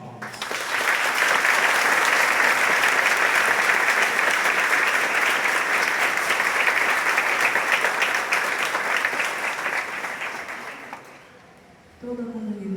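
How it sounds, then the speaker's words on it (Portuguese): A church congregation at a Confirmation Mass gives sustained, dense applause that swells quickly, holds steady for about ten seconds, then fades out, followed by a voice speaking. "Por isso, saudemo-los com uma salva de palmas."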